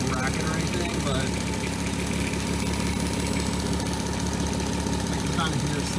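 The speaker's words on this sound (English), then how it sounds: "Maybe it sounds like the chain's rubbing against the guide or the guide's worn" A 2003 Volkswagen Eurovan engine idles steadily with a faint rhythmic rubbing from the timing chain against a worn guide, a constant close mechanical drone with light ticking throughout.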